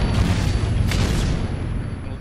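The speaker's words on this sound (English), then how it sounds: "Friendly predator missile inbound." A predator missile strike in Call of Duty MW3, heard as a loud, rumbling explosion. The deep boom fills the whole clip, with a brief crackling burst in the middle.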